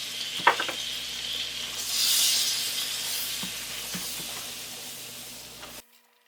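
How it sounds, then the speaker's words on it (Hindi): All-purpose flour roasts in butter in a pan for mac and cheese, a steady sizzle with soft stirring scrapes and a faint tap near the start, cutting off abruptly near the end. "अच्छी तरह से इसको रोस्ट करेंगे फ्लावर को"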